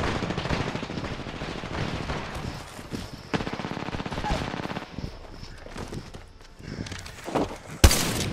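Sustained rapid automatic gunfire in Apex Legends, a dense continuous rattle of shots dominating the mix, with a sharp louder burst near the end.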